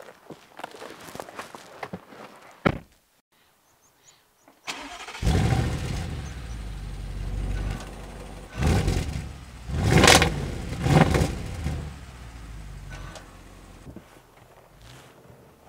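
Footsteps approach an Audi RS7 with a sports exhaust, then the engine fires with a loud start-up flare, settles into idle and revs as the car pulls away, heard nearby.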